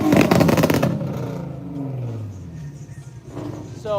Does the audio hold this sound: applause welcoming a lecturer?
no